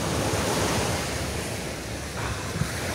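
Sea waves washing onto a beach in Tunisia, a loud continuous surf roar with gusty wind buffeting the microphone throughout.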